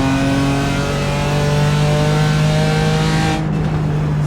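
A BMW M4 engine in a racing simulator on the Nürburgring drones loudly and steadily as it brakes, its pitch falling slightly under the engine braking.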